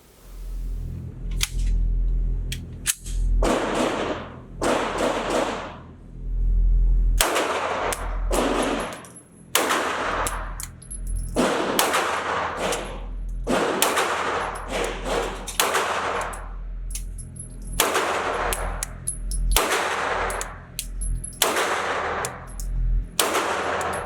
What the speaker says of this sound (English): let's get to my first shots on this gun, see what the recoil impulse is like